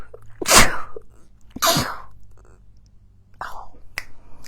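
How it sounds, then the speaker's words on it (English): Two loud, close sneezes about a second apart, followed by a quieter sharp exhale and a brief click. "now I have to sneeze"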